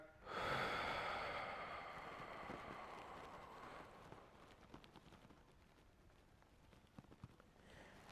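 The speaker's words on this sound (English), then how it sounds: "nice controlled exhale out" A slow, controlled exhale during a low back rehab breathing exercise, starting with a strong breathy rush that gradually fades into quieter air and faint movement noises.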